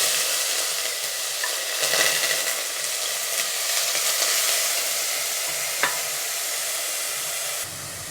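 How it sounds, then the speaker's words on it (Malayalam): Crushed onion sizzles loudly in a pan while being stirred for a creamy chicken curry, with a steady bright frying hiss and occasional scraping stirs throughout and no speech. "ഇനി നമുക്ക് ഈ സവോള ഒരിച്ചിരി ഒരു കളറൊന്ന് ചേഞ്ചായി വരുന്നവരെ നന്നായിട്ടൊന്ന് ഇളക്കി കൊടുക്കണം."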